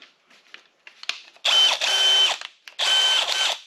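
An electric drill running in two loud, sustained bursts of high whining motor noise, each lasting about a second, with the pitch shifting as it bores into a hole, after some quieter handling clicks.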